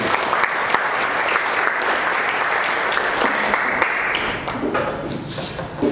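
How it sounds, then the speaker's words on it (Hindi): A church congregation breaks into loud, sustained applause, a dense wash of clapping that holds steady for several seconds before gradually thinning. "आइए जोरदार ताली से परमेश्वर को धन्यवाद।"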